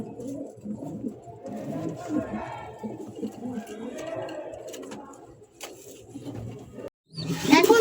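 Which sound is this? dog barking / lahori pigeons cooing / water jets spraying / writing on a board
lahori pigeons cooing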